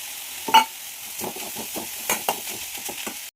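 Drumstick leaves being stir-fried in a pan make a soft background sizzle, broken by a sharp clink at the start and a series of rhythmic scraping stirs close by.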